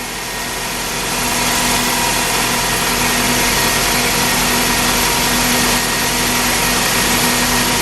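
A 2001 Toyota Camry engine runs at idle with a failing alternator, a loud, close, steady hum and whir that rises slightly after the first second and continues evenly without speech.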